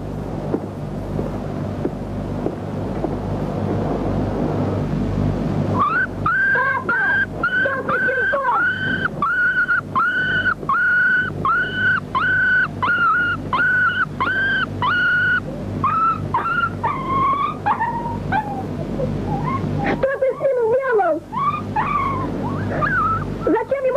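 A puppy whimpers and whines in repeated high-pitched bursts over a steady low rumble, the cries coming in quick series with short pauses.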